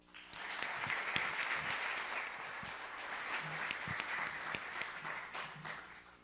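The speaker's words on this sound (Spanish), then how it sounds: "También recibámoslos con un aplauso, por favor." A crowd at an academic round-table colloquium applauds steadily throughout, a dense wash of many hands clapping at even strength, with no talking over it.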